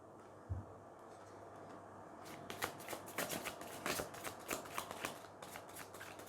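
Tarot cards riffled and shuffled close by, a quiet lull first, then a quick run of crisp papery flicks and snaps that fills the second half, with no speech over it.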